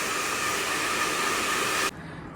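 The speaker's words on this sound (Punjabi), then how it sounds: "ਅੱਜ ਮੈਂ ਪਹਿਲੀ ਵਾਰ ਵੀਰੇ ਤੋਂ ਬਲੋ ਡਰਾਇਰ ਕਰਾਉਣ ਲੱਗੀ ਆ" A hair blow dryer runs with a loud, steady whooshing roar that cuts off abruptly near the end, leaving a quieter background.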